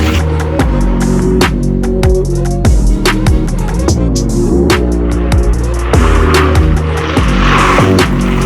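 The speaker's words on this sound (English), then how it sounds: "after the cones, I'm gonna slam on the brakes and see the stopping distance" A 2012 Audi A6 3.0T supercharged sedan drives through cones and brakes hard, heard from inside as a loud, constant engine and road rumble with shifting tones and sharp knocks.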